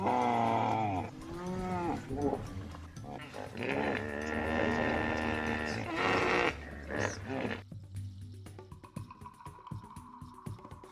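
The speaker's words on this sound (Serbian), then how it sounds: "A ovako zvuči nilski konj." A deep, throaty bellowing call rises and falls in several loud bursts, then fades into quieter grunts and background noise.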